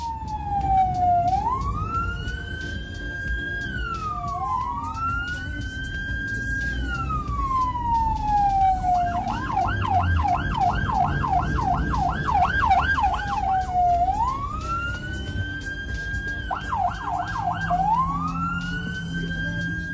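An ambulance siren wails through St. Petersburg city traffic, cycling between rising-falling wails and fast yelping, loud and close over a steady rumble of engines.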